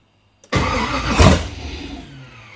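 An LS V8 swapped into a Nissan 240SX turns over and fires within half a second, flaring to a loud, rough rev and then settling into a lumpy, throbbing idle.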